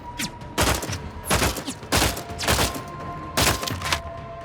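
Gunfire in The Outer Worlds 2 on PC, loud rapid bursts of shots repeating in several clusters about a second apart, close and punchy, no talking over it.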